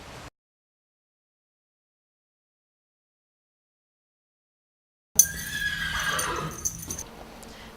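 A horse neighs after a long stretch of silence, a loud, close whinny that rises and then trails off, with faint hoof clopping beneath it.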